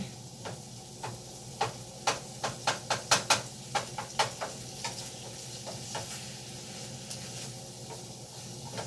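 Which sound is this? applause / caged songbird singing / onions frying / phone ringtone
onions frying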